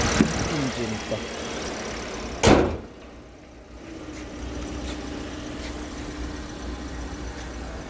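A black car's engine idles steadily at close range, a low even hum that follows a sharp door-like thump, with no talking over it.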